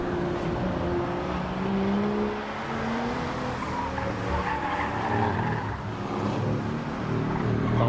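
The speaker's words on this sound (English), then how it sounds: "Tyre squeal there you could hear." A car sliding on a hill rally stage, its tyres squealing in drawn-out rising and falling screeches over a continuous engine roar, heard from trackside with steady wind and crowd ambience and no speech.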